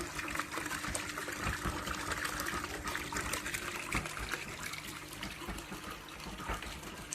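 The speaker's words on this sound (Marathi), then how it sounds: "इथं आम्ही छोटासा धबधबा केला" A small decorative waterfall set up for the Gauri Ganpati festival at home flows steadily, a soft continuous trickle and splash of falling water heard alone at low level.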